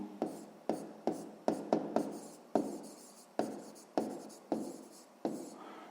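Handwriting on paper while noting a math answer: about a dozen sharp pen or chalk strokes in uneven rhythm, each a quick scratch that fades, close and quiet.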